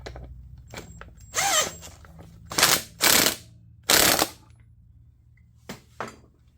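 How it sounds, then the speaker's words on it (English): Ratchet tightening a bolt on the front end of a John Deere Z225 zero-turn mower, heard as several short bursts of ratcheting clicks separated by pauses, close and fairly loud with no talking. "Let's tighten up that bolt."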